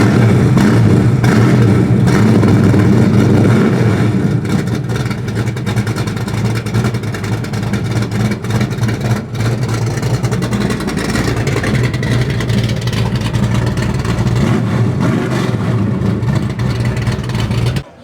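A 1968 Chevy Camaro SS V8 muscle car runs loud and steady at close range, a deep throbbing rumble that holds for the whole stretch with slight rises in revs and no talking.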